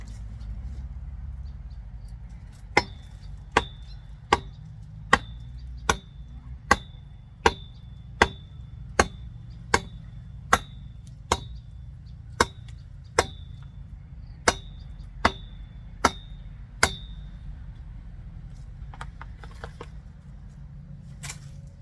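Hammer knocking during digging of banana shoots, in a steady series of sharp, evenly spaced blows close by, about a dozen and a half strikes over a low rumbling background.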